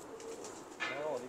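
A pet pigeon coos in a Punjabi pigeon-keeper's loft, a short soft rolling call rising near the end over faint background hiss, close by.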